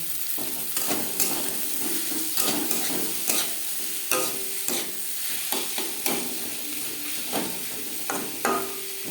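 Chopped tomato and onion stirred and fried in the oil left from frying katla fish for curry, a continuous sizzle with frequent scraping, clattering stirring strokes up close, no voices.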